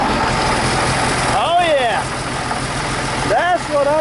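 A Cummins diesel engine in parked heavy equipment idles with a steady low rumble just after starting, while people talk loudly over it.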